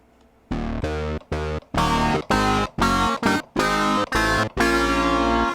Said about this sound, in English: Oscillator sync.